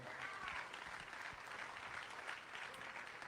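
A crowded debate audience for the Gadsden mayoral race claps steadily, a dense even patter of applause filling the room throughout with no break.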